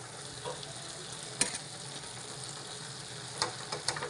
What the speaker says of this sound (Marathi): आता चांगल्या पद्धतीने आपण मिक्स करून घेऊया पूर्ण बिर्याणीला